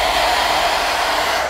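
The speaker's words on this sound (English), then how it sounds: "I am going to use a blow dryer to melt the gummies and they will mold into a puppet" A blow dryer blasting hot air to melt gummies, a loud steady whooshing roar with a high whine that holds constant throughout, alone with no talk.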